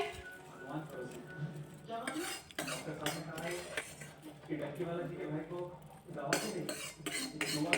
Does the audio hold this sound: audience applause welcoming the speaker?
no